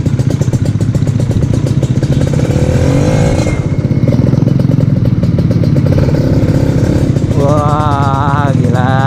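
A 2016 Kawasaki Ninja RR two-stroke sport bike runs loud and close, a steady buzzing engine note with a brief dip near the middle and rising revs toward the end.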